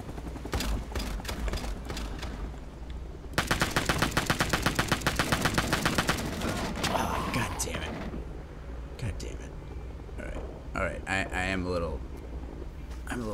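Rapid automatic fire from a grease gun in the Rising Storm 2 war game, a sustained close burst of evenly spaced shots, with other distant gunfire and battle noise around it and someone talking over parts.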